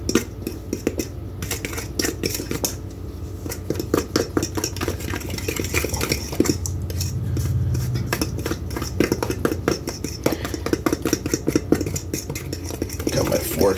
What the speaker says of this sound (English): And then we're gonna give it a nice stir.